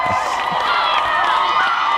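A TV studio audience at a makeover show cheers and whoops continuously, a dense wash of crowd voices held steady and loud throughout.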